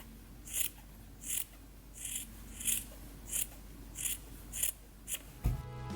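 Scissors cut out backstitched plush fabric pieces with about eight evenly spaced crisp snips, close and quiet, ending with a soft thump of handling.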